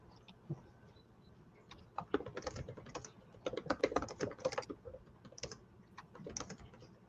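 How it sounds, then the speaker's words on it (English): Someone types on a computer keyboard with irregular runs of quick, light keystrokes and brief pauses, heard faintly and fairly close in a quiet room without speech. "No, one of you is typing."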